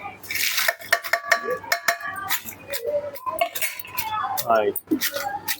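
Dried red chillies hit a frying pan and a metal spoon stirs them, giving quick clinks and scrapes of utensil on pan with a faint sizzle underneath, and no talking.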